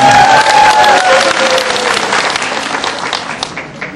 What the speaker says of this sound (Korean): 자, 다시 한번 힘찬 격려의 박수 부탁드리겠습니다.